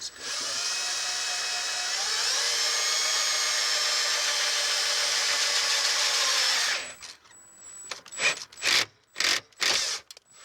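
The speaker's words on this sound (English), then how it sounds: "about to drill a hole in this dash so I can put the switch in it" A power drill whines steadily for several seconds, then stops, followed by a few short bursts of drilling and clicking as the bit works through a plastic car dashboard.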